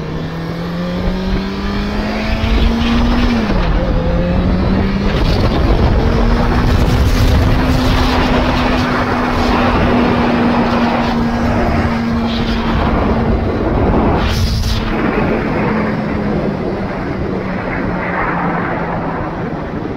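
A 600cc motorcycle riding at speed gives a loud, continuous engine drone. Its pitch dips, then climbs and holds steady under rushing wind.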